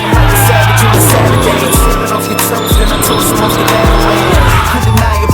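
An LS-swapped Mazda Miata drift car screams past at high revs with repeated gear shifts and long tire squeals, loud and close, while people talk faintly over the racket.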